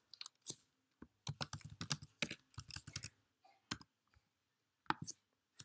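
Rapid, uneven clicking of a computer keyboard as a password is typed, bursts of keystrokes with short pauses between them, close and clear with no talking.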